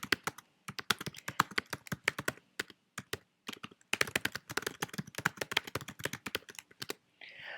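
Computer keyboard being typed on in quick irregular bursts with short pauses, crisp close key clicks at low volume, heard alone.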